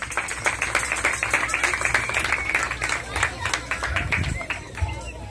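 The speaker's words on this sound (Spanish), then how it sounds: "Regálele palmas al Señor en esta hermosa tarde" Congregation clapping along at a Spanish-language church celebration, dense rhythmic hand claps filling the room continuously with crowd noise underneath.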